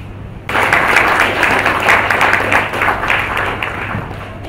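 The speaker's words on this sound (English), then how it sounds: "So let us welcome him with a round of big applause." Audience applause welcoming the Archbishop of Bangalore at an ecumenical Christian centre's Christmas celebration, bursting in abruptly after a short pause and holding as steady, dense clapping from a sizable crowd, with a low steady hum underneath.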